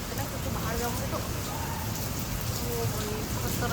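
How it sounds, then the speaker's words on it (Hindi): Heavy rain pours down during a storm in a village area, a steady close hiss of drops hitting surfaces with wind, continuing without pause. "कल गांव में बारिश हो रही थी और आज यहाँ हो रही है भाई"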